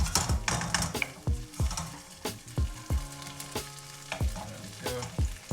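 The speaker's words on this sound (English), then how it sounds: "Just let that fry on the half for a little bit." Salmon fried rice sizzling in a pan while a spatula repeatedly scrapes and taps against the metal, giving a steady frying hiss broken by rhythmic clinks and stirring strokes, close up and with no talking.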